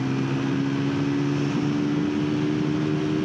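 Triumph Tracker 400 motorcycle cruising in fourth gear on a highway, steady continuous engine drone with a constant low hum and wind noise throughout, no speech.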